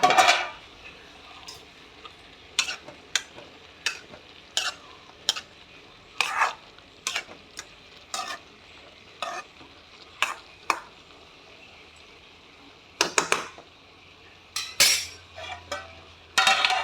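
Beetroot and cabbage thoran being stirred in a pan: a spoon clinks and scrapes against the metal in irregular bursts over a low simmering hiss, close and fairly loud, with no talking.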